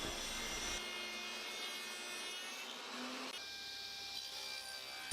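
A table saw fitted with a dado head cuts a groove in timber for a table setting, giving a steady, loud broadband whine with tonal machine harmonics that shifts partway through as the blade works the wood, with no voice over it.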